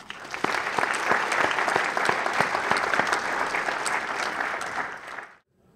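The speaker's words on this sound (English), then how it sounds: "give a round of applause for them." Conference audience applauding a volunteer team at a healthcare IT conference, a dense sustained wash of many hands clapping at steady loudness, then stopping abruptly near the end.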